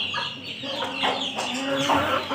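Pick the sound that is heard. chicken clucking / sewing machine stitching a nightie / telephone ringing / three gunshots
chicken clucking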